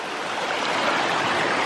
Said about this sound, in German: Das Wasser, das der Johannes jetzt geholt hat, das kommt direkt von da oben von so einem Wasserfall